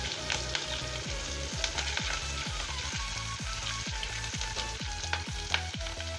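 Cumin seeds and green chillies fry in oil over low heat, a close, crackling sizzle with scattered sharp pops and a soft rhythmic scraping of stirring underneath, no voices.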